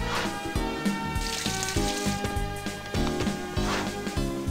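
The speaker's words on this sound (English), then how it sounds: "fill it up with water." Watering crops in the video game Harvest Moon Magical Melody: choppy bursts of splashing, hissing water repeat in a regular rhythm alongside a looping game melody.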